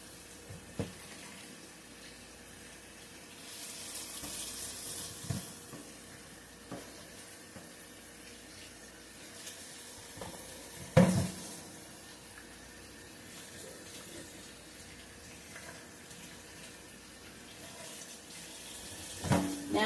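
Vegetables for salsa are rinsed under a running kitchen tap, a steady close stream of water hissing into the sink with occasional splashes and soft knocks as the produce is handled, no speech.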